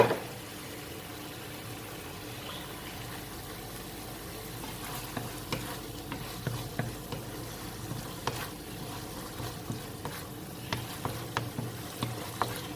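Beef stir-fried with red curry paste in a hot pan, giving a steady close sizzle with scattered sharp spatula scrapes and taps that come more often toward the end.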